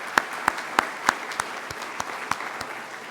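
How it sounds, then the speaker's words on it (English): An audience applauds at a university grand opening. Distinct claps come at a steady rhythm and sound close, growing softer over about three seconds, with no talking. "Let's give them a round of applause."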